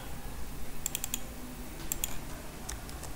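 Quiet bursts of computer keyboard typing while entering C# code, a few quick clusters of light key clicks separated by short pauses over faint room hiss.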